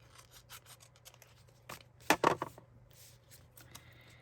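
Scissors snip through excess craft material in a few quick close cuts clustered in the middle, with light rustling and handling before and after.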